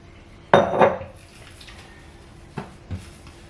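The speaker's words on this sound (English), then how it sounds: "I'm gonna scrape this out onto the clean countertop" Fermented bread dough, handled with wet hands, is scraped out of a container onto a clean countertop in two quick clattering bursts, followed later by a couple of softer knocks.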